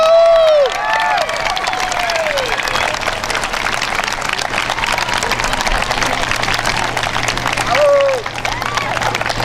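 A crowd at a high school senior night claps and cheers for the newly crowned Miss Bulldog, steady applause filling the space while an announcer's amplified voice speaks over it.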